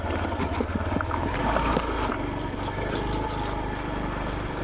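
A motorboat engine drones steadily and fairly close on the water, mixed with wind buffeting and splashing, with no voices.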